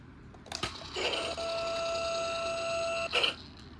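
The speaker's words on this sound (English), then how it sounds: "It's like your backup alarm" A 2008 Hess toy truck with loader sounds its electronic backup alarm, a steady thin beeping tone held for about two seconds, framed by clicks of the button being pressed, close and alone.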